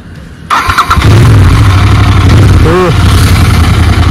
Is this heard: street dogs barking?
no